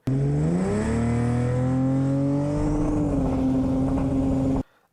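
A 2000-horsepower Toyota Supra with a billet 3.2-liter 2JZ engine, 94mm turbo and stage-one nitrous revs hard, its loud, close engine note rising steadily in pitch before cutting off abruptly.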